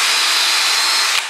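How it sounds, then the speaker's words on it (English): A power drill with a 10mm bit bores a hole into a plasterboard wall to fit a hollow wall anchor. It gives a loud, steady, close whine for just over a second, then stops abruptly. "drill our hole"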